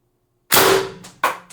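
A single sharp shot from an Umarex TR68 paintball marker running on an HPA buttstock air adapter, close and loud with a quick decay, then a second brief mechanical clack.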